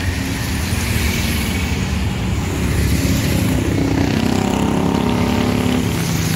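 A Tunggal Jaya bus passes by with a steady, broad engine rumble and roar that swells slightly midway, loud and continuous with no talk.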